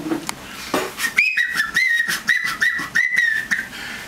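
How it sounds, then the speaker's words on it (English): A person whistles a series of short, bright, rising and falling notes, fairly close and clear, with small gaps between each phrase. "He wants a whistle."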